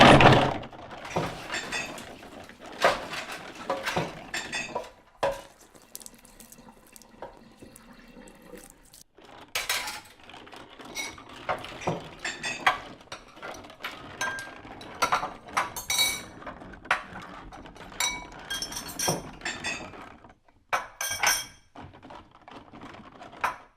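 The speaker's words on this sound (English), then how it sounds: "I have to clean these dishes." Toy dishes clinking and clattering as they are washed under running water, with irregular sharp knocks and rattles over a steady splash, including a brief quieter pause partway through.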